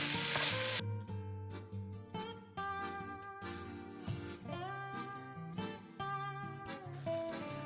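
Diced butternut squash sautés in a pan for a coconut curry soup, a quiet sizzle and occasional stirring heard under a soft melodic background.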